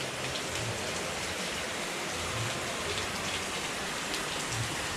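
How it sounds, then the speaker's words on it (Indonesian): Heavy rain pours down in a village on a morning, a steady dense hiss of falling water that holds unbroken throughout with no voices. "diberi hujan lebat."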